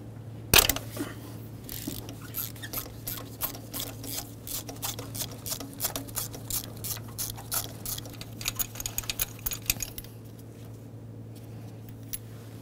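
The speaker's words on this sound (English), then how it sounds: "Use a 5/8 spark plug socket, an extension, and a 3/8 drive ratchet. Make our way down in here and break the spark plug free." A 3/8 drive ratchet with an extension and 5/8 spark plug socket loosening a spark plug on a 2013-2015 Chevrolet Malibu 2.5L four-cylinder, giving a steady run of close, sharp clicks over a low hum before falling quiet.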